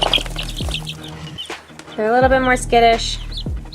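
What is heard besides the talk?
young chicks chirping, Spangled chicken breed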